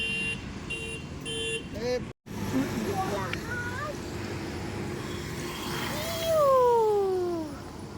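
A vehicle approaches on a village road, sounding its horn in short, near tones at the start, while traffic noise continues and voices, including a rising and falling cry, are heard nearby.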